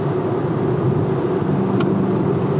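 A car with a very firm, stiffly sprung suspension rolls along a road, heard from inside as a steady, close low rumble of tyre and road noise with no talking.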